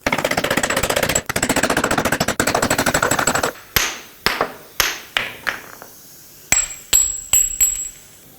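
An impact tool hammers away at an old front control arm bushing on a 2007-2009 Saturn Aura, first as a loud, rapid continuous rattle, then as a series of separate sharp bursts close by.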